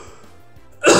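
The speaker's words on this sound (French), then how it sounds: "Désolé si je tousse dans le micro" A single short, loud cough bursts out close to the microphone at the end, following near-silence with a faint low hum.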